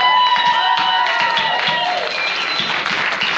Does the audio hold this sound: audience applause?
yes